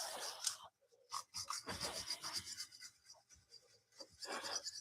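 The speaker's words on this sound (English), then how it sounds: "I'm not putting a ton of pressure on this brush. I'm kind of letting it do the work." A brush scrubs grime from the inside top of a Nissan Altima brake caliper with light pressure, giving close, irregular raspy strokes in short bursts separated by brief pauses.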